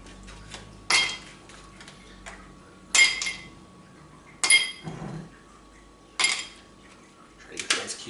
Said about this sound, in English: Try to get the ice cubes actually into our glass.